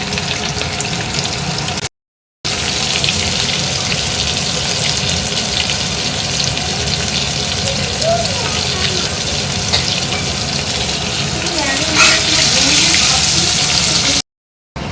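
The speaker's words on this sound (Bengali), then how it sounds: "মাছগুলো ভেজে নিচ্ছি" Hilsa fish pieces fry in hot oil, making a loud continuous sizzle and crackle close by, broken by two short gaps of silence, with faint stirring and no talk.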